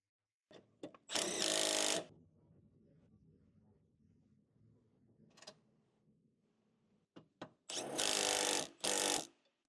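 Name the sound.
tightening Ford Explorer mount bolts with 13mm wrench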